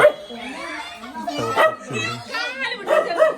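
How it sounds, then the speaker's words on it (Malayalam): A dog barks and yips in short bursts while people talk nearby at a trip stop with animals. "ഒരു ഡോഗ് ഉണ്ട്"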